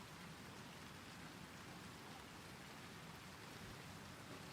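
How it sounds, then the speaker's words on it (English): Steady rain ambience from the video game Second Stellar, a dense, even hiss of falling rain that holds without change, very quiet and alone with no other sounds. "The rain sound shouldn't be tied to music volume."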